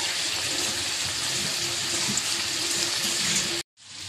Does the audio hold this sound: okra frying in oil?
yes